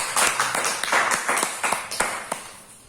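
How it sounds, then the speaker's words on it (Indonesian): A small group of students in a classroom microteaching session claps for a student group, a short burst of loose, uneven hand claps that thins out and fades over about three seconds. "tepuk tangan untuk kelompok 1"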